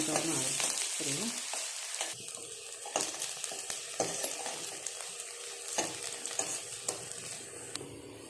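Onions frying in a pan for a chicken gravy sizzle loudly up close, broken by scraping stirs and spatula knocks against the pan, with a faint murmur of speech in places.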